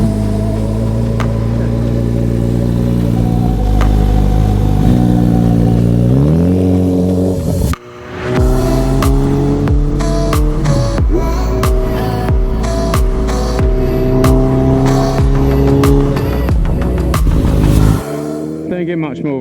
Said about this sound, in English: Behind me is my very loud motorbike